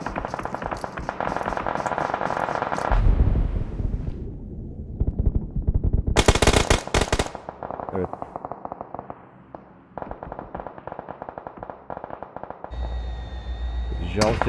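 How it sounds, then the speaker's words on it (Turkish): Gunfire in a PUBG match on the Erangel map, with repeated rounds hitting a vehicle and shredding its tyres. Dense bursts of shots run through the whole stretch, loud and close, under continuous commentary. "Tüm mermilerin hepsini araç yedi ama kendisi bir tane mermi bile yemedi."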